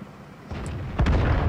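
Artillery shell blast in World of Tanks, the IS-6 match: a low rumbling boom rises midway, then a sharper, louder impact hits near the end and its heavy low rumble carries on.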